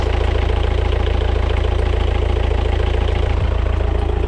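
A sailboat's inboard engine idles steadily at close range, with an even, low rumbling throb and no voices.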